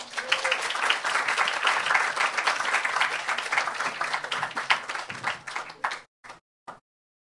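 An audience claps warmly to welcome a group of poets to the stage at an evening writers' reading, steady applause that thins out and ends in a few scattered final claps.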